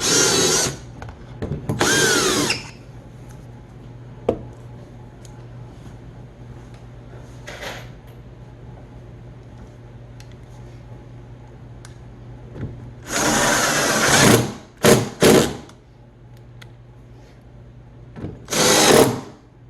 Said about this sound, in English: Drill a nice little hole.